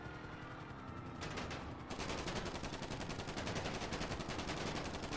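Sustained rapid automatic gunfire in the video game Grand Theft Auto V, a few scattered shots at first, then a dense continuous burst that stays loud to the end, with no talk.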